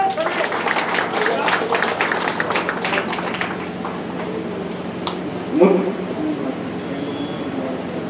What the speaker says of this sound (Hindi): तालियां बजाइए जब स्वाद देते समय।